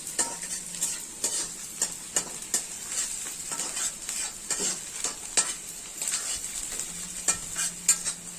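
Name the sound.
chili frying in a pan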